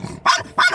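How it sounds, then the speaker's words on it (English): A dog barking twice at people in a snowy outdoor setting, two short sharp barks close by in quick succession. "this one barks at them all"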